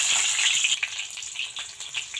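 Chopped onions sizzle and fry in mustard oil in a kadai, a steady close hiss with soft crackles and no voices.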